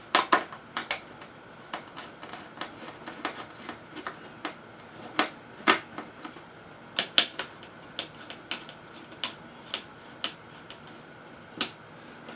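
Sharp, irregular clicks and small metallic ticks as standard screws are removed from a liquid cooler mount inside a Falcon Northwest Tiki desktop PC. The clicks sound close and come scattered throughout, with no talking.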